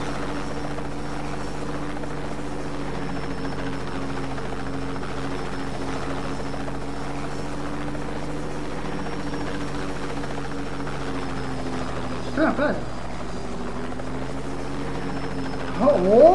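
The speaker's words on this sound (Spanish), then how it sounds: "Ese helicóptero me lo pido yo." Helicopter flying in the video game Just Cause 2, a steady droning rotor and engine hum carried throughout at constant level, with a few brief louder bumps near the end and a voice speaking briefly.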